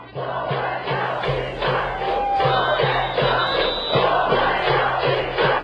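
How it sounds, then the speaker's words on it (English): A packed stadium crowd at a rain-delayed CPBL baseball game in Taiwan chants in unison, a loud rhythmic chant with regular repeated beats and steady clapping or drumming throughout, continuous and close. "During the break, the packed crowd erupted, chanting, "We want a dome.""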